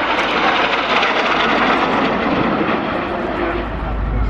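Display aircraft flying past at RNAS Culdrose Air Day 2015, flying about 6 to 8 feet apart: a loud, continuous engine roar dominates throughout, with a commentator talking over it.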